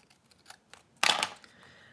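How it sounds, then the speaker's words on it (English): Scissors cutting a sheet of paper for a traveler's notebook make one brief crisp snip close by, after faint handling clicks and rustles in a quiet room. "So let's cut off part of this"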